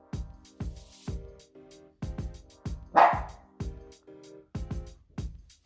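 A puppy barks over and over in a regular run of sharp, fairly close yips, with one louder, rougher bark partway through and short gaps of quiet between them.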